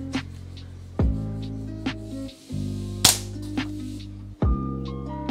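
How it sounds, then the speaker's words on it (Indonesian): A Predator Tactical Monol PCP air rifle fires several sharp, close cracks with short gaps between them, each followed by a brief ringing tail, with no talking. "Lanjut ke tembakan yang ketiga."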